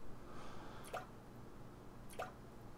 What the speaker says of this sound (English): Drip. Drip. The sound of falling drops.